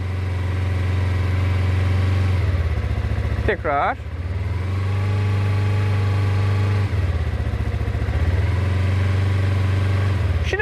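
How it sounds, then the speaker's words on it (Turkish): A motorcycle engine held at steady rpm gives a loud, constant droning hum, with brief dips in revs. Someone talks over it close to the microphone. "Önce belli bir devir aralığında motosikletimi sabitliyorum."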